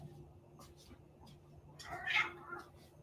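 A cat meows indoors, one brief moderately loud call rising out of a quiet room, with faint speech before it.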